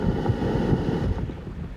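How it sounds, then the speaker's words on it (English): Strong storm wind of about 57 mph buffets the microphone in a constant low roar, gusting unevenly, with a faint wash of surf behind it. "it does remain very windy with the storm moving inland"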